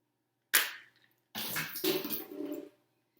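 A shaken bottle bursts open with a sharp pop, then after a short pause comes a hissing, splashing gush of fizzing liquid that fades out.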